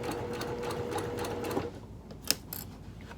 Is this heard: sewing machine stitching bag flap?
yes